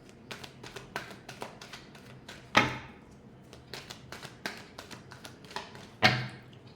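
A tarot deck is shuffled by hand in a quiet room: a run of soft, irregular card taps and flicks, broken by two louder slaps as the cards are squared, with no one talking.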